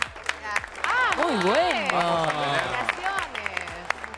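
Studio audience applause on a live Argentine morning TV program, scattered claps running under a voice speaking over them, fairly distant and moderate in level.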